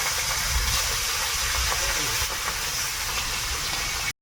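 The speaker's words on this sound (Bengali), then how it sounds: "কড়াইতে তেল দিয়ে দিয়েছি, এখন মাছের মাথাগুলো একটু ভেজে নেবো" Catla fish head frying in hot oil in a wok, a dense, continuous hiss and sizzle throughout, close and fairly loud.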